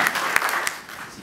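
Brief burst of audience applause in a hall at a political gathering, with dense clapping that fades out.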